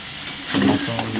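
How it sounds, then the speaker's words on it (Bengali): Mutton being stir-fried down (kosha) in a pan at home, giving a short burst of sizzling and stirring scrapes that rises after a quiet start and keeps going steadily, close and moderately loud. "মটন কষানো চলছে এখন"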